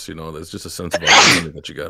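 A single sharp human sneeze bursts out close and loud in the middle of conversational talk, with speech continuing before and after it.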